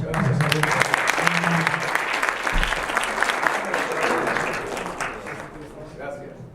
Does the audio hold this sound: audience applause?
yes